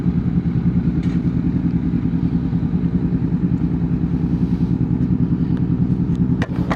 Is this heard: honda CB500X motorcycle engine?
yes